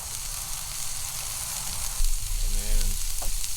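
Green onions frying in oil on a Blackstone griddle, a steady close sizzle throughout that grows louder and busier midway as they are stirred.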